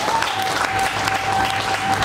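Worshippers in a church service applaud in a steady, full burst of clapping, close and loud throughout, with a faint sustained tone running beneath the crowd.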